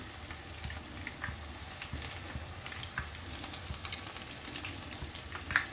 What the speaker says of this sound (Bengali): এভাবে একটা দিক ভাজা হালকা হয়েছে তারপর ঠিক এইভাবে উল্টে দিলাম আরেকটা দিক